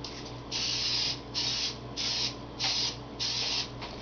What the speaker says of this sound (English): I'm going to start by spraying the pan.